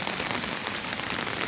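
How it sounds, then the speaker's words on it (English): Heavy rain pours steadily onto a flooded garden with banana plants, a dense, loud, continuous hiss of drops close by with no break for the whole stretch. "I have an umbrella because it is raining heavy"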